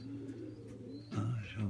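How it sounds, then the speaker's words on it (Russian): Domestic pigeons kept for flying, some with loose droppings, coo softly in low, murmuring phrases that are fairly faint and mixed with background noise. "Чем чаще, чем больше будете гонять голубей,"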